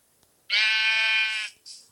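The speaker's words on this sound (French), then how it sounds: "On peut pas adopter un autre mouton." A sheep in the Minecraft video game gives one long, loud, steady bleat, followed by a brief shorter bleat.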